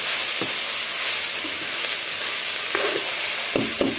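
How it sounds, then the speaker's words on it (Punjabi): Half a kilo of okra and two onions sizzle in a pan after curd is added, a loud, continuous hissing fry with occasional soft stirring knocks; no one speaks. "ਹੁਣ ਇਹਦੇ ਵਿੱਚ ਆਪਾਂ ਦਹੀਂ ਪਾ ਕੇ ਹਲਕਾ ਜਿਹਾ ਸੇਕ ਲਵਾਵਾਂਗੇ"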